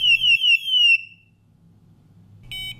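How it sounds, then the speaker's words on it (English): A G450 gas detector sounds its alarm during a bump test: four rapid, piercing electronic chirps, a quiet gap, then a brief buzzing tone returning at the end. "make sure that the alarms are activated"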